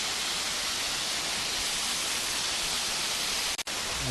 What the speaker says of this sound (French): c'est cette cascade là qui descend et qui forme l'autre cascade qu'on vient de voir